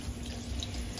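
Water running steadily from a tap, a continuous soft hiss at low volume over a brief moment.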